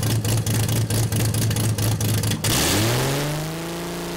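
A Jeep stroker inline-six on a dyno with open headers and no exhaust attached blasts out loud, rapid staccato rev pulses. It then unwinds into a falling, fading engine note.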